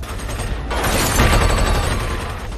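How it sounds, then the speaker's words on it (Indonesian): Assault rifle fire in a film rattles out as a dense, loud, continuous volley that builds after a moment and stays heavy throughout. "Kemudian, Karasov menyatakan bahwa ia juga sedang bekerja dan langsung menembakkan senapan serbunya."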